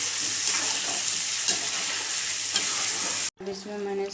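Chicken masala spices (coriander, turmeric and chili) fry in oil while being stirred, giving a steady, loud sizzle with scraping strokes that breaks off briefly near the end before resuming.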